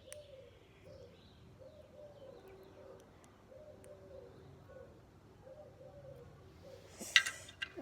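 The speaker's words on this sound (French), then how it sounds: "Il y a des oiseaux" Birds coo softly at a distance in a steady repeating pattern, a dove-like call sounding about once a second, with a brief louder rustle near the end.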